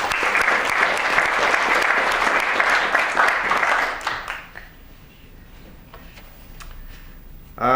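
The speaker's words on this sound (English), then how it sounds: "So a round of applause for both of them." A crowd applauds loudly for about four seconds, then the clapping fades out to a quiet room with a few scattered claps.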